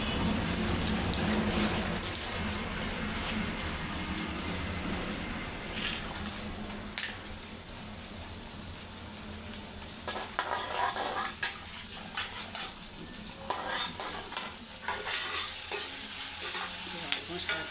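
Chana dal sizzles and fries in a hot pan while a spoon stirs it, steady crackling hiss with scraping strokes, close and continuous, no talking.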